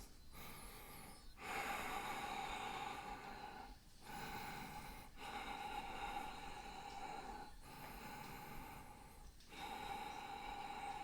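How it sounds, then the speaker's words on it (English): Heavy, rhythmic breaths during an intense, sweaty power yoga class, each long exhale rushing loud and close with brief quiet gaps between, no talking over them. "Just 5 more breaths."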